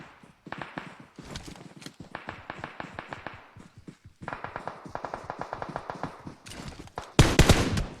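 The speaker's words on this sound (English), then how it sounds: "So much gunfire on my right, it sounds like." Rapid bursts of distant video game gunfire crackle in uneven volleys, with a louder close blast near the end.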